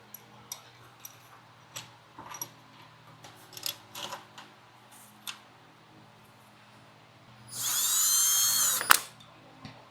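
A power tool runs on the long bolts of a second-generation MINI Cooper belt tensioner. Scattered clicks and tool clatter lead into one loud, steady whirring burst of about a second and a half near the end.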